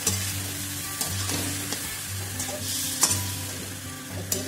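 Cauliflower pieces fry in spice paste in a pan for a wedding-style phulkopi roast, a steady close sizzle broken by repeated scrape-and-stir strokes, with no talk.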